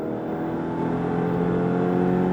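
A Ferrari engine hums steadily and climbs gradually in pitch as it speeds up, loud and continuous throughout.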